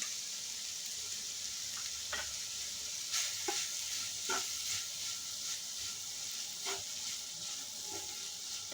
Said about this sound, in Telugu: మిక్సింగ్ చేయాలి మూత పెడుతున్నానండి ఒక టెన్ మినిట్స్ పడుతుందండి ఫ్రై అయ్యే వరకు